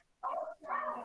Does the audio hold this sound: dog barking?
yes